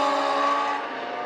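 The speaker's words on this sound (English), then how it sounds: "You hear those motorcycle engines just getting punished." Small race cars powered by high-revving motorcycle engines, some running on alcohol, scream past at a dirt speedway, a loud continuous whine with a slight drop in pitch as they pass.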